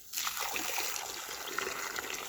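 Water pours steadily onto bare ground to soak it before concrete blinding is laid for a foundation, a continuous splashing trickle that starts abruptly and stays moderately close, with no speech.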